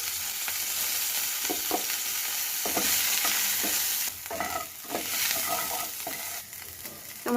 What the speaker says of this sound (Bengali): এতে একটু তেল দেব, জিরা ফোড়ন দেব, কাঁচা লঙ্কা চেরা দিলাম, গ্রেট করে রাখা আদা দিলাম